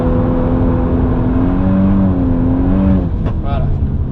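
A 4WD drift car engine revs near 4000 rpm, its loud close harmonic drone wavering up and down before dropping away, with tire and wind noise underneath.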